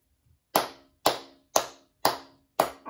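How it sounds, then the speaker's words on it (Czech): Hands clap out a steady rhythm, five sharp claps spaced about half a second apart, close and clear against silence. "Samozřejmě nejdřív tleskáme"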